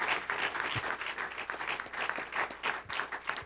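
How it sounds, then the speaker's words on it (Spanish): Applause from a church congregation at a bilingual Spanish-English evening service, steady dense clapping with individual claps standing out, moderately loud and continuous throughout. "Thank you very much for that applause."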